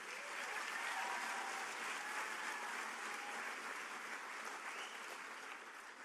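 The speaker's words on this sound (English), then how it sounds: "So give yourself a round of applause for making it this far." A commencement audience at Western New Mexico University's fall ceremony gives a steady, sustained round of applause, a dense wash of many hands clapping that holds evenly throughout at a moderate distance.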